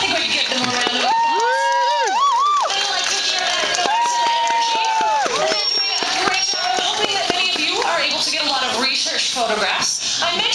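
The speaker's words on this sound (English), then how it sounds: "I think we can give them a round of applause" Audience at a dolphin show on the Vancouver coast of British Columbia, Canada, cheers and shouts loudly, children's excited squeals rising over a busy crowd, with scattered clapping mixed into the steady, close din.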